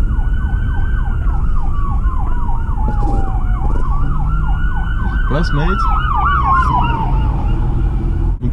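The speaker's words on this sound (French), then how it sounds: "Attends, il y a les pompiers qui arrivent." Fire engine siren wails loud and steady as it passes through a street in Cambodia, its rising and falling tone shifting in pitch, over constant traffic rumble with brief speech.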